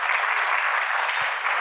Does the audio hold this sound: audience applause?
yes